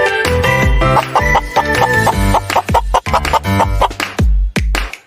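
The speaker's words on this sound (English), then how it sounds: "And here are some chickens." Farm chickens cluck in quick, loud, close-up bursts, a busy run of short repeated calls filling the whole stretch.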